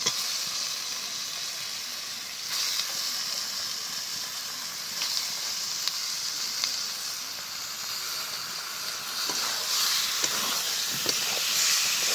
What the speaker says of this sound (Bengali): এই সময় দিয়ে দেবো ধুয়ে রাখা মাংস। তারপরে মাংস দেওয়ার পরে খুব ভালো করে কষাবো।